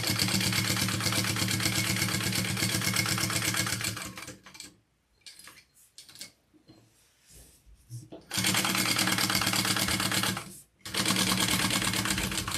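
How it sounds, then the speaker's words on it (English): A sewing machine stitches a pocket onto a garment in steady, close bursts, with pauses where a voice talks over quieter handling sounds before the machine resumes. "sew that pocket on"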